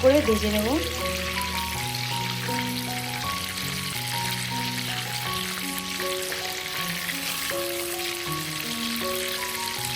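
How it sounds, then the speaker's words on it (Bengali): Beef steak fries in a pan with a steady, close sizzle that runs the whole time; a voice speaks over the cooking throughout. "মাংসটা ভাজা হয়ে গিয়েছে দেখতে পাচ্ছ তোমরা কীরকম ব্রাউন একটা কালার আসছে"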